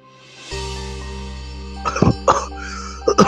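Several sharp, close coughs in quick bursts break over a steady background hum.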